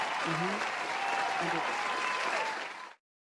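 Dense, steady applause from an audience fills the space at full strength, a few voices briefly audible within it, before cutting off abruptly near the end.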